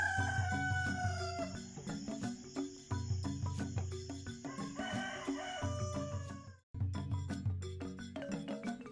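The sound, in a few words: rooster crowing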